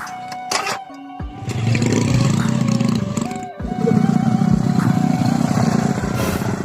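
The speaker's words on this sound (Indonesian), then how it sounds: "Aing kan jajal motor nya" A new motorcycle is started and ridden nearby, the engine idling and then revving to a steady mid-pitched drone with a brief dip midway, while a few faint voices sound early on.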